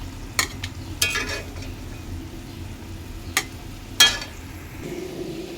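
Pieces of fish are sautéed in a pan with cauliflower and a couple of beans. A few sharp scrapes and clacks of stirring sit over a low steady frying hiss.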